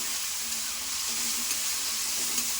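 Potatoes for fasting khichdi sauté in a hot pan with salt, a steady soft sizzle and hiss running continuously and evenly throughout, close and alone.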